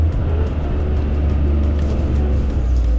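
Toyota GR Corolla with all-wheel drive spinning its wheels in snow, a loud, sustained, steady engine drone close up with no break, and the clutch being feathered.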